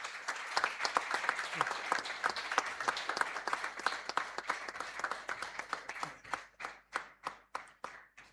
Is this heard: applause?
yes